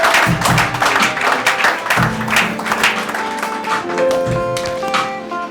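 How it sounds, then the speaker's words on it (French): A church congregation claps along steadily through the whole stretch, a dense rhythmic patter of many hands with singing voices and music running underneath. "Can we clap our hands very well?"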